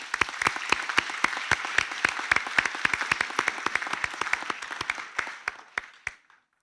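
Sparse, distinct handclaps from a small graduation audience ring out for graduates, individual claps clearly separable, thinning and fading over about six seconds.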